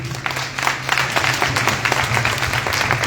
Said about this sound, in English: So clap it up for them, please